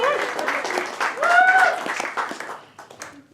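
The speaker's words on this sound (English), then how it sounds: "Give them a round of applause." Audience at a stand-up comedy show at The Loft breaks into applause, a dense wash of clapping that swells and then tapers off over a few seconds, with some voices mixed in.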